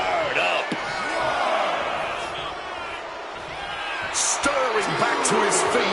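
A wrestling arena crowd in WWE 2K26 cheers and whoops beneath steady commentary, with occasional sharp slams and impacts cutting through the crowd noise.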